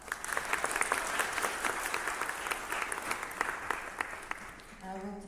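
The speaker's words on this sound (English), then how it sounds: "Please give him a round of applause." A symposium audience applauds with sharp, distinct hand claps at a steady roar. Near the end the clapping thins and a voice starts to speak.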